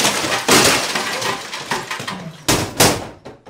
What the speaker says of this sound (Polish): Pamiętacie scenę z rozbijanymi talerzami na ścianie?